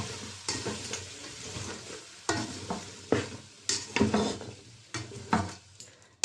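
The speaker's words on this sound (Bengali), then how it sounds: "ধনের গুঁড়ো দিয়ে দিলাম হলুদের গুঁড়া লবণ এখন দিব নাড়াচাড়া" Winter vegetables frying in a pan with coriander powder, turmeric and salt. A soft sizzle runs underneath while sharp scraping stirs strike the pan at irregular intervals, close and fairly quiet, with no talk.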